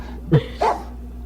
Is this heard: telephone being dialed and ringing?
no